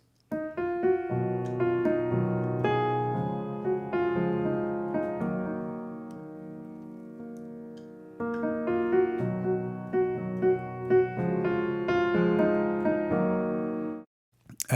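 A piano plays a tune with chord-driven bass and melody together, steady and clear up close, pausing briefly midway before continuing.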